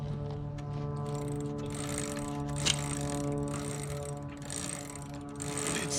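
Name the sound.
motorized Predator 212cc tricycle wheel and chain spinning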